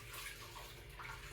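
Steady water running from a tap into a kitchen sink for rinsing, a broad continuous hiss at low level with no voices.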